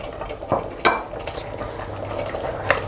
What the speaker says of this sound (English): I'm adding more okra again